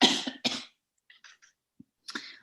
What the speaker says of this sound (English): I'm going to cough, sorry.